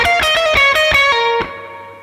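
An electric guitar with effects and distortion plays a quick blues lick: about seven fast, sharp picked notes, then one held note that rings out and fades.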